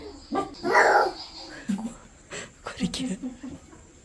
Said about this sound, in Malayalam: ആര് വന്നാലും ഇപ്പൊ ഇവനാ കുരയ്ക്കുന്നേ